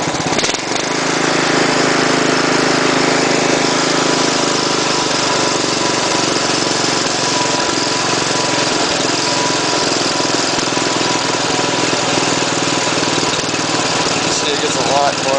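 A tractor-driven 12V generator engine on a welding tractor runs at high speed, a loud, steady broadband roar with a low hum that holds unbroken from start to finish.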